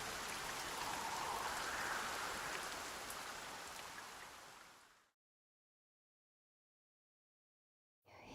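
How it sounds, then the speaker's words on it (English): Steady, hissing rain falls in the HD-2D remake of the Dragon Quest game, a dense wash of drops heard alone for about five seconds before cutting to silence, then returning briefly at the end. "Lo, the rain doth fall, and soon enough the sun too shall fade."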